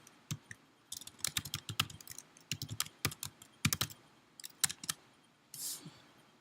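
Quick, irregular bursts of typing on a computer keyboard, crisp clicks in short runs and pauses, close and fairly quiet with no talk.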